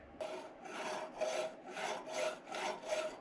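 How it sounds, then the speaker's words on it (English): A fine-tooth file is rubbed lightly across an engine part from a 1997 Argo Conquest, making six even rasping strokes in a steady back-and-forth rhythm, close and alone. "Okay, this is a real fine tooth file. Just going to run across nice and light."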